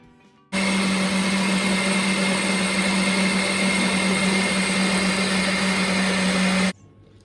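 A blender runs at a steady high whine for about six seconds, grinding fresh basil leaves for pesto, starting and stopping abruptly with a constant loud, dense roar and no talking.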